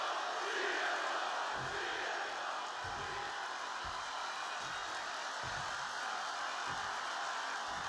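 Wrestling arena crowd from the video game WWE 2K26 at a SummerSlam match, a steady wash of massed cheering and chanting with recurring low thumps, continuous and moderately loud throughout.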